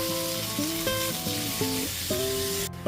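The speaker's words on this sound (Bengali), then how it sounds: "ধনেপাতা কুচিটা দিয়েও খুব ভালো মতো মিশিয়ে নিচ্ছি।" Chopped coriander being stirred into radish chhechki in a pan, a steady close sizzle of frying with soft scraping stir sounds over a background of gentle tonal hum.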